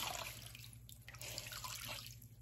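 Running tap water as a washcloth is rinsed at a sink during a nighttime face-cleansing routine, a faint continuous trickle and splatter, close and alone.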